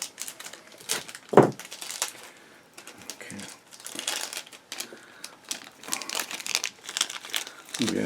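A thin plastic bag holding photo-etch parts from a 1/35 KV-5 super heavy tank model kit being handled, with close, soft crinkling and crackling in uneven bursts and one sharper crackle early on.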